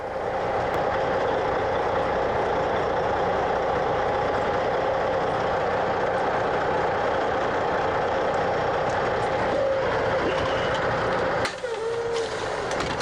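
A commercial truck rolls slowly backward with its brakes released, a steady droning engine hum that holds level for several seconds, with a brief air-brake hiss near the end.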